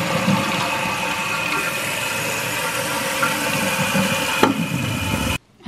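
A toilet flushes after its tank is treated with a no-scrub cleaner, a close, steady rush of water that runs for several seconds and then cuts off abruptly.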